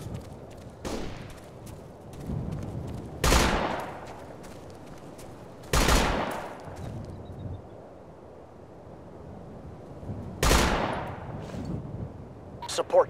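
Gunfire from a support gunner in a military video game: a few sharp, loud shots spaced several seconds apart, each trailing off, over a low windy background.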